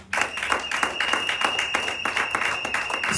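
A church congregation applauds steadily for the Lord during a Sunday worship service in Sherbrooke, with dense, close clapping that continues throughout and no cheering voices standing out.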